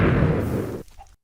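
A lava-laced explosion fired from a wizard staff in the Minecraft WizardCraft mod: one loud, broad boom that rumbles and fades over about a second, then cuts to silence.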